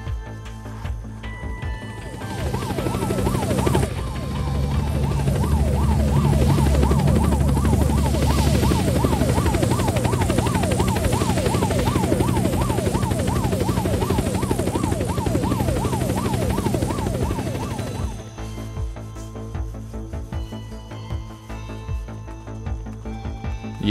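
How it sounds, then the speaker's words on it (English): A helicopter in the video game Unturned circles overhead, its loud rhythmic rotor chop and engine whine holding steady for about fifteen seconds before cutting off abruptly, with background game sounds continuing afterward. "Another helicopter."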